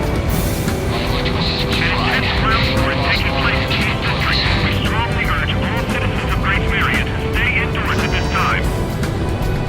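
In the Ace Combat video game, a fighter plane flies over Gracemeria with a constant loud engine roar and jet whine, overlaid by radio voices talking and intermittent bursts of tones.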